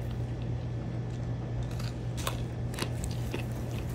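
Chewing of Iniki popcorn dusted with white cheese powder and furikake, bought at Pearlridge mall in Aiea, Hawaii, gives a few sharp, irregular crunches over a steady low background hum, close to the mouth and fairly quiet.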